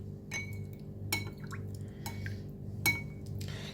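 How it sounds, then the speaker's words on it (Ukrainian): A spoonful of tomato paste is stirred into water in a kitchen, with soft liquid swishes and a few sharp spoon clinks against a glass or dish at intervals over a steady low background hum. "Я зараз томат в воді розбавлю."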